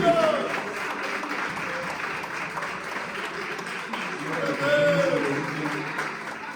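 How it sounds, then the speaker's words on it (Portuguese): A church congregation claps for Jesus during a sermon, a continuous wash of many hands at steady moderate volume, with faint voices and a brief swell toward the end. "Uma salva de palmas bem forte e bem alegre para Jesus."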